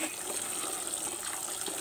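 Mulberries are rinsed under running water, a steady close splashing and gushing that fills the whole brief moment.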